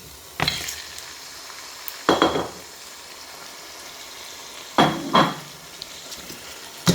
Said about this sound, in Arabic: هقلبها عشان تاخد من كل البصل والزيت